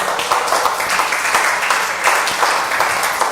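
A church congregation claps loudly in praise of God during a sermon; a strong, dense burst of many hands applauding, with individual sharp claps standing out in an uneven rhythm, close and continuous, with no talking over it.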